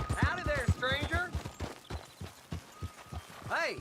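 Horse hooves clip-clopping at a fast gallop in the Red Dead Redemption 2 video game, rhythmic thuds close by, with tonal voices over the hoofbeats.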